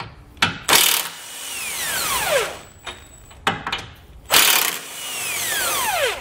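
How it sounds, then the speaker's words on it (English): A ratchet with an 18 mm socket loosening a tow hook on a 2017 GMC Canyon, sharp clicking cranks in short bursts with falling whirring sweeps between, close and loud, no talk. "We can grab an 18 millimeter socket and just loosen up our tow hook."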